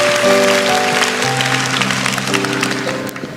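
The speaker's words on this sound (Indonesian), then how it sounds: "Kasih tepuk tangan untuk Tuhan" A church congregation applauds during a sermon, a loud, continuous patter of clapping mixed with sustained musical tones underneath, filling the room throughout.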